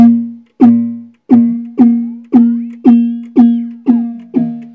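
A Vermona Kick Lancet analog drum synth hits repeatedly in an even pulse, each note gritty and crunchy with a bit-crushed, quick decaying tone, about eight strikes.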